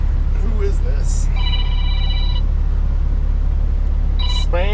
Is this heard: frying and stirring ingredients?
no